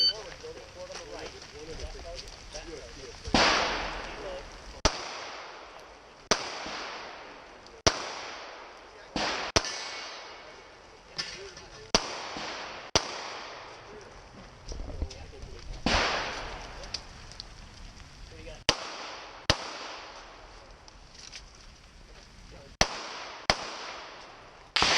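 Gunshots ring out at an Action Shooting International match, a series of sharp, loud cracks spaced irregularly over about twenty-five seconds, close by, with people talking between the shots.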